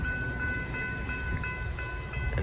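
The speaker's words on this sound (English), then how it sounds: "And I think a Metra is coming now." A Metra commuter train approaches near Grand Avenue, its steady rumble and rail noise loud and continuous with high ringing tones above, and no talking.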